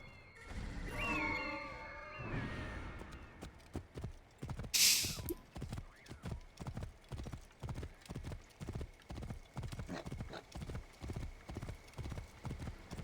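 Horse hooves clip-clop in a steady, even rhythm from a black and gold mount ridden through the Duat in a video game, preceded by a brief whinny and soft game music.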